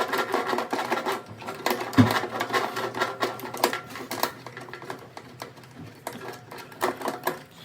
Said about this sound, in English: We just unscrew each one of these bolts